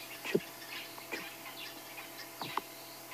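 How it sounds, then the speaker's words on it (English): A grey-headed sparrow gives a few short, soft chip calls at sunrise in Greater Kruger National Park, spaced irregularly among faint background birdsong. "Gently, you can hear a grey-headed sparrow, chip, chip, chip."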